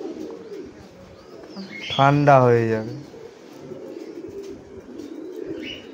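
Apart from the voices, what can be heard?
pigeons cooing at a pigeon farm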